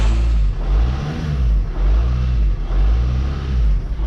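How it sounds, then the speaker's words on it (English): A VW T5 van engine idles with a low, pulsing throb and a faint rattle from a worn dual-mass clutch, heard close and steady throughout with no talking. "you can hear the rattle. That's the dual mass clutch."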